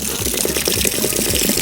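Water from an RV's emptied hot-water tank gushes steadily out of the plumbing in winter, a loud continuous rushing and splashing close by with no talk.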